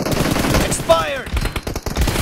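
M4 rifle gunfire in PUBG Mobile, a quick burst of shots mixed with game noise and a brief whistling zip, over a busy mobile battle soundscape.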